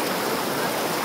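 A flowing river stream in the morning, a dense, loud, steady rush of water heard up close for a brief moment with no voices.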